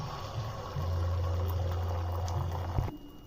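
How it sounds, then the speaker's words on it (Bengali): Egg frying in hot oil in a pan, a steady close sizzle that cuts off near the end. "প্রথমে ডিমটা ভেজে নেব।"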